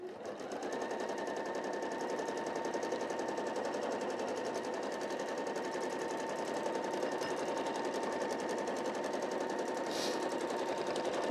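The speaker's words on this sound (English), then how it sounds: "If you're stitching freehand" A domestic sewing machine doing freehand free-motion quilting on a table cloth runs steadily and close, a fast even needle rattle with a constant hum for the whole stretch, no talking over it.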